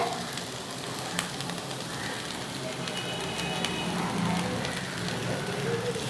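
Carrot, capsicum and cabbage stir-frying in a hot pan for Hakka noodles, a soft continuous sizzle with faint occasional clicks of stirring, fairly quiet and steady, with no voices.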